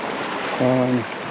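Creek water flows steadily beside a hiking trail along the Middle Fork of the Payette River in Idaho, near hot spring pools. It makes a continuous broadband rush, and a brief tonal sound rises over it midway.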